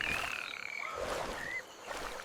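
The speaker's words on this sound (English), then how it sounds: "The whispering swamp was dark and wet. So full of croaking sounds." Frogs croak in a dark, wet swamp, a continuous chorus of overlapping calls with a few higher trilling tones, moderately loud and steady throughout, with no voices.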